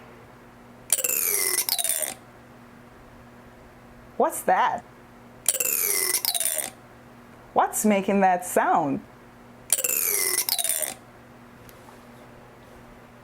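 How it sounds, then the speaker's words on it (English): A comb handled in three separate bursts, each about a second of scratchy, raspy strumming as the teeth are dragged, close and fairly loud, alternating with a person speaking. "It's a comb."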